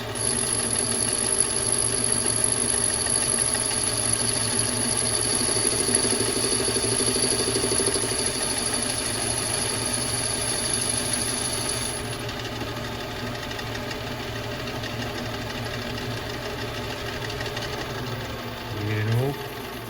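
A manual metalworking machine with no digital readouts runs with a steady, continuous mechanical hum and whir for the whole stretch, ending in a brief knock near the end.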